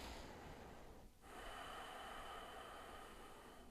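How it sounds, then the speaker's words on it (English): Deep, slow breathing during a seated qigong neck and shoulder stretch, a steady soft airflow with a brief pause between breaths, close and alone. "Take a few deep breaths here."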